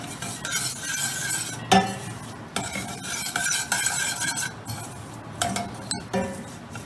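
A spoon stirs sugar in a pan in a home kitchen, scraping and clinking against the metal in a steady back-and-forth rhythm, close up, with a few sharper knocks and a faint sizzle underneath.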